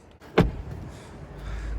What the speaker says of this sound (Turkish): Kapı kapamın sesleri mükemmel ya.